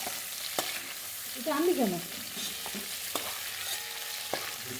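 Prawns frying in oil in a pan, a soft steady sizzle with occasional utensil clicks and a brief stir, while a person speaks briefly over it.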